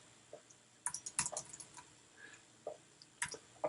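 Typing on a computer keyboard, quick clusters of faint close key clicks with short pauses between bursts, no talking.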